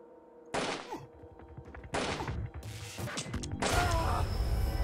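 Bursts of loud synthetic gunfire in the video game 2Dark, quick volleys in three separate clusters of sharp cracks with mechanical clatter between them, no talking.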